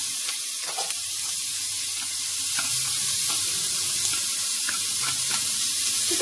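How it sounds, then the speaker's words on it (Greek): Wild boar sausages sauté in a pan with onion and leek, giving a steady, close sizzle and hiss with occasional faint stirring scrapes. "Μαζί με τα λουκάνικα τσιγαρίζουμε το κρεμμύδι, το φρέσκο, το πορτοποιημένο"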